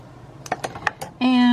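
A pencil marks paper while making imitation wooden spools out of paper. Four or five short, dry taps and scratches come up close, followed by a sustained voiced tone.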